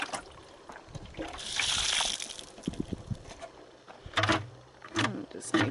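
A garden hose rinses dirt out of a bucket outdoors. A soft hiss of running water swells for a moment, then gives way to brief splashes and trickles, with birds calling in the background.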